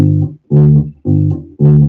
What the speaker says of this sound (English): Root fifth patterns sound like this,